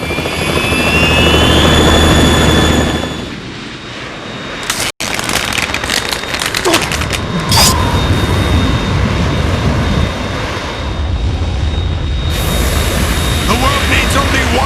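A Harrier jet's engine roars in Metal Gear Solid 2, a loud, sustained rumbling whine with a sharp burst and shifting intensity, mixed with game sound effects and voices.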